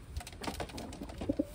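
A pigeon newly arrived from Taiwan coos softly, two short low notes near the end against faint background rustle.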